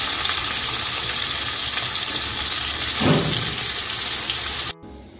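Fish fry in mustard oil in a non-stick pan, a loud, dense, steady hiss of sizzling close by, with a brief scrape as the pieces are turned, then cutting off abruptly near the end.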